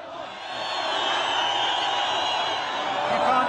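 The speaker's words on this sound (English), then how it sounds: "It's an incredible crowd, and this is for a demonstration the government said was banned" A vast crowd at a banned opposition demonstration in central Tehran roars as a steady, loud wall of chanting and cheering voices, swelling slightly and holding without pause.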